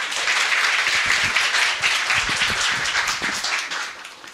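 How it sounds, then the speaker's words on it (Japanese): Lively applause from a seminar audience welcoming a questioner at a talk on money and emotional intelligence, dense overlapping claps from many hands, close and loud, fading slightly at the end. "え勇気ある質問者に皆さん応援の拍手お願いします"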